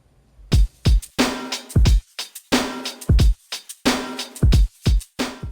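A hip hop beat loop built in Logic Pro for a remix, with punchy kicks, snappy snares and shaker-like African rain kasisi rattles panned to one side, playing in a steady groove, loud and upfront with no voices.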